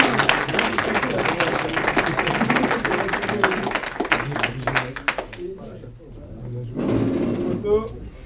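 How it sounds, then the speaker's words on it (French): A crowd applauds a contestant at a closing party, dense clapping that runs for several seconds, then stops abruptly before a short burst of cheering and talk. "Tonnerre d'applaudissements pour Teddy"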